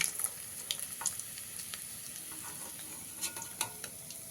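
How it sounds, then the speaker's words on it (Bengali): Parshe fish frying in hot oil, a soft steady sizzle with crackling pops and a few light clicks of a utensil, close and fairly quiet with no voices. "মাছগুলো আমি দুটো সাইডে খুব ভালো করে ভেজে নিয়েছি"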